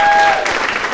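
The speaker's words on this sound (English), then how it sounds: "Give them a round of applause." Audience at a city State of the City address breaking into loud, dense applause that fills the whole moment, starting strong and easing slightly.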